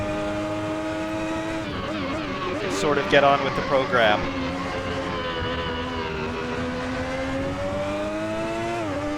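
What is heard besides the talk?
Ferrari 641 3.5 liter V12 engine in video game Assetto Corsa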